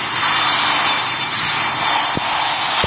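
Steady, loud aircraft engine roar from a plane in the PTFS flight game at Greater Rockford, a continuous broadband drone with a faint hum running throughout and a couple of brief clicks near the end.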